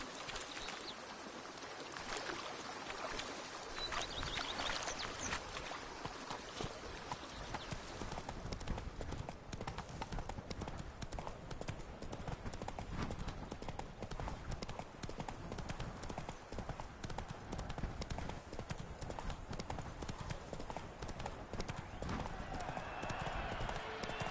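Roach, the horse in The Witcher 3, gallops with a steady clatter of hooves under a dense wash of game noise and music, the clip-clop continuous and fairly loud throughout.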